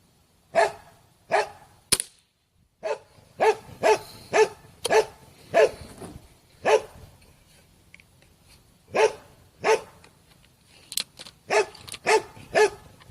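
A dog barks repeatedly and loudly nearby, sharp single barks in an uneven rhythm with short pauses between, and no talking.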